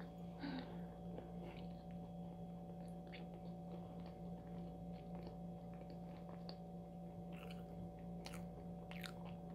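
Soft Korean macarons being chewed close to the mic, slightly salty cookie shells, with quiet, repeated mouth sounds and light crunches over a steady low background hum, no talking.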